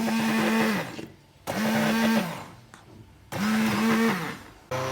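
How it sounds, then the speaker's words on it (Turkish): A blender whirs in three bursts with short pauses between, its motor pitch dipping as it churns thick homemade ice cream, close and loud. "Yine blenderdan geçireceğim."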